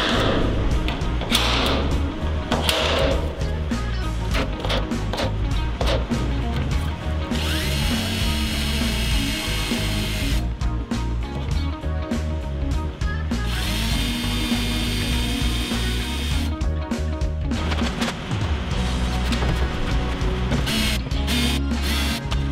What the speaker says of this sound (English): So now we have a half a bajillion spot welds to drill.